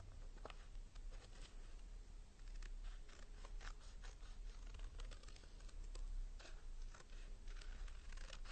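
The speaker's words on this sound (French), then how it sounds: "Avec votre paire de ciseaux, vous allez découper" Scissors cutting a butterfly silhouette out of folded blue paper, a quiet, close series of crisp snips and paper rustles repeating irregularly throughout.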